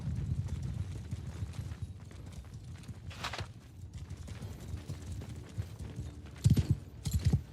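Horses' hooves clip-clop on the ground at a walking pace as riders dismount, with light shuffling and occasional louder thuds near the end.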